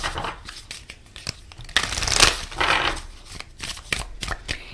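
Moonology oracle cards being shuffled close up, a steady papery riffling and sliding with a few louder flutters in the middle, no voices.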